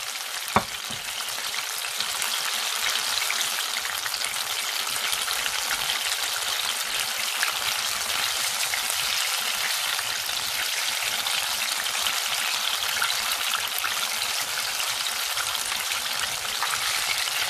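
Paneer pakoras fry in hot oil in a pan with a steady, dense sizzle and crackle, even and close, with a single sharp tap near the start and no voices.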